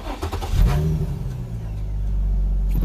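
Infiniti G35 coupe engine with a failing starter, cranking and catching with a rough, loud rumble up close, then settling into a steady low idle on its own.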